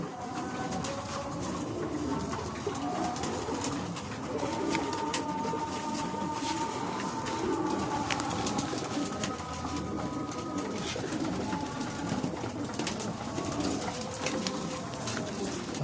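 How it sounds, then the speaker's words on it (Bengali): Pigeons coo softly and repeatedly in low, rolling tones, with faint clicks and rustling in the background. "দেখুন পায়রাগুলো সব একই রকম।"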